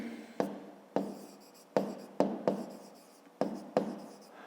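A pen writes on paper at close range during a fifth-grade maths exercise, with a series of short scratchy strokes and taps in an irregular rhythm, quiet and alone.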